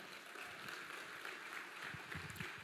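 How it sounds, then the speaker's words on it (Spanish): Church congregation clapping for God during a Spanish-language worship service, a soft, diffuse patter of applause filling the room at moderate distance, with no talking. "¿Alguien aquí le puede dar un aplauso a Dios?"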